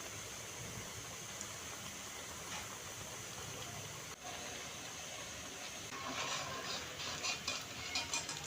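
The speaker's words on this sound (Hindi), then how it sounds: "अब इनको पलटने के बाद मैं फ्लेम मीडियम पे कर दूंगी ताकि हमारे पकोड़े अंदर तक अच्छी तरह से फ्राई" Curry pakoras fry in hot mustard oil with a steady, dense sizzle and crackle throughout, growing a little busier with faint stirring clinks toward the end.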